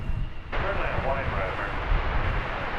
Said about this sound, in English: there in the center of your left center of your shot is United Airlines or United Express flight 6297 going to Houston Intercontinental